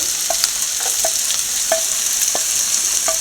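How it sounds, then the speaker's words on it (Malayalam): Onions sautéing in a pan for chicken roast, a steady broadband sizzle with sharp intermittent scrapes of a spatula stirring them, close and moderately loud, with no talking. "നമ്മുടെ സവോള നല്ലപോലെ വഴന്നിട്ടുണ്ട്"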